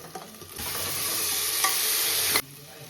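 Onion with ginger-garlic paste sizzles steadily in a pan for pav bhaji, a close, even frying hiss that rises as stirring begins and cuts off sharply near the end, with no talking.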